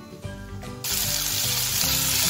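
A brief clatter, then a loud, steady sizzle bursts out as vegetables and spices hit hot oil in a kadhai and keep frying close up.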